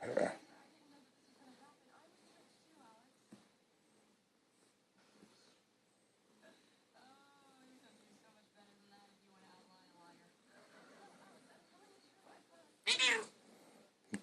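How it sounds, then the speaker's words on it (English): A cat meows several times at close range while a person murmurs softly in the background, all fairly quiet, with a louder scuffle near the end. "Yes, she's a good purr."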